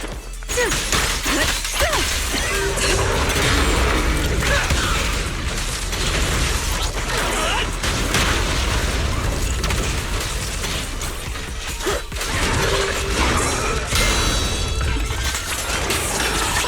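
A mech battle in the video game Zenless Zone Zero against the Anti-Void Hunter: dense, continuous clanking, crashing impacts and metallic bursts, loud and sustained with scattered sharp hits throughout.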